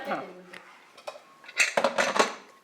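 A plate and pot lid are handled in a home kitchen, producing a quick cluster of close metallic clinks and clatters after some quieter knocks, with voices faintly present.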